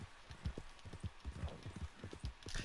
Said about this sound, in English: this fun little detail that my horse can do. Can walk side to side